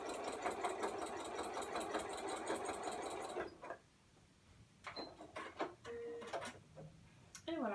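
A sewing machine quilts straight lines across a quilt, running loud and rapid for about three seconds before stopping, followed by quieter clicks and handling of the fabric and machine.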